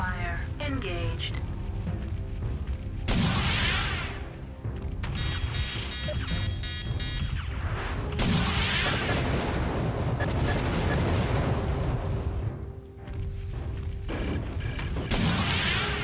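A particle cannon fires at giant mechs in a video game. It makes loud, sustained booming and crackling blasts with mechanical whines layered over them, continuous through the moment, while someone talks over the action.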